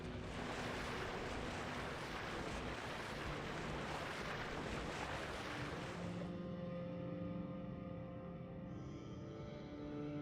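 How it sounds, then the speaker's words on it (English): Water pours down from above in a video game, a loud, steady rushing wash that cuts off abruptly partway, leaving faint tonal hum behind. "Water falling from above"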